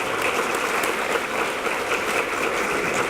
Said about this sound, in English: Let's give them, our servers, a round of applause for all that they do to